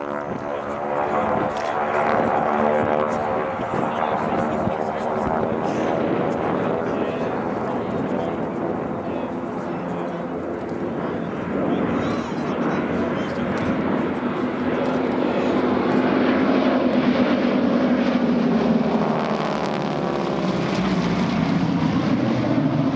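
PL-11 Airtruck agricultural plane flying a top-dressing run with superphosphate, its piston engine and propeller droning steadily and loudly throughout, the pitch sliding lower toward the end as it passes, with a narrator talking over it.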